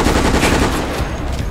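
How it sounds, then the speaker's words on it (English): Assault rifle gunfire from the Operation Raccoon City video game, a dense, loud, continuous burst of rapid shots filling the whole short stretch without pause. "I'm gonna pick up this assault rifle now."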